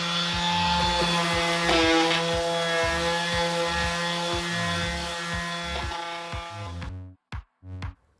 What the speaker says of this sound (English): I grabbed my new Bauer mouse sander and a 120 grit sanding sheet and got started knocking down the finish on this tray.